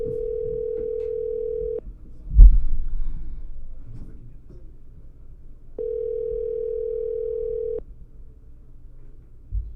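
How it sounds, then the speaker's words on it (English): An outgoing telephone call rings back while waiting for an answer: two long steady tones separated by a pause, with a thump and faint background noise in between. "please make Janella answer her phone"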